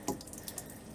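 Water runs and splashes steadily while a ball valve is fitted to a caravan or RV water tank, a faint, close trickle with small splashes over about a second.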